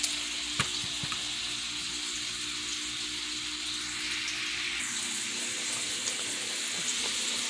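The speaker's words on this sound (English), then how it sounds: "I'm browning the cooked ground beef on here" Cooked ground beef browning in a pan gives a steady, soft sizzle and hiss throughout, with a few sharp ticks and pops near the start and no talking.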